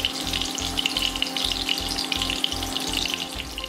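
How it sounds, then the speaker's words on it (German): Leberkäse fries in a pan with a steady, close sizzle and crackle throughout, and a regular low pulsing hum runs beneath it. No one speaks. "Und jetzt habe ich das Leberkäse reingemacht und brate es an."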